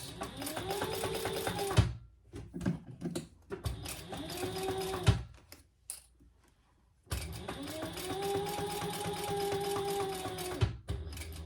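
Sewing machine stitching quilted fabric backed with batting for a bowl cozy, whirring in steady bursts that stop, pause and restart as the piece is pivoted at the corners.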